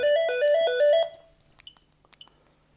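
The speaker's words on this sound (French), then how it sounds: "J'ai le téléphone qui sonne." A telephone plays a melodic electronic ringtone, a loud rising and falling tune of repeated notes lasting about a second before cutting off, followed by a few faint clicks and soft handling noises.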